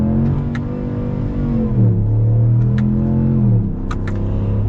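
A 2022 Ram 1500 Rebel GT pickup truck accelerates from inside the cab, its engine droning and climbing in pitch through a gear change, loud and steady with faint clicks, no talking.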